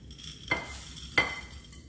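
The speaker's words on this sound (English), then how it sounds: "instead of using the beater, we're going to stir it in with a spatula" Spatula stirring chocolate chips into cookie dough in a bowl, giving two brief scraping clinks against the bowl about half a second apart over a quiet background.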